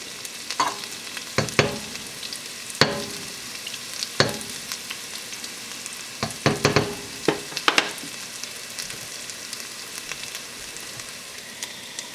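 Onion, garlic and ginger sizzle in a hot pan, a steady frying hiss punctuated by sharp scrapes and clacks of a utensil stirring at irregular intervals, close and moderately loud with no talking.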